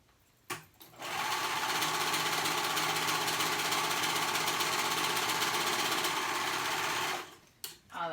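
Close, loud whir of a sewing machine running a skirt side seam in one continuous six-second burst, bracketed by brief fabric handling and clicks.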